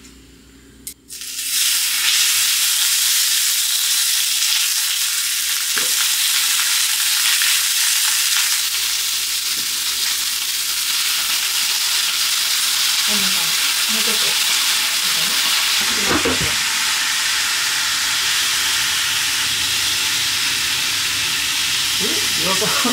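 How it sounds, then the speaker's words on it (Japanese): Meat for sukiyaki sizzles loudly in a hot pan, a dense steady hiss that starts abruptly and carries on throughout, with occasional clinks and voices talking under it. "じゃあ、お肉焼きたいと思います"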